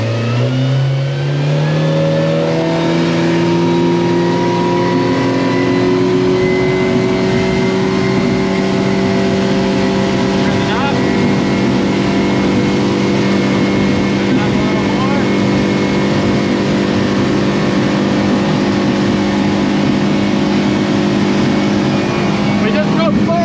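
A 2015 Smokercraft Phantom 182 boat with a Yamaha 90 outboard runs at high speed, its engine revving up steadily and then holding a loud, constant drone with wind and water noise the whole time, and a voice talks over it.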